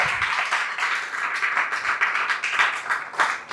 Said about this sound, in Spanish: Dame un aplauso al Señor y a su palabra en el nombre de Jesús.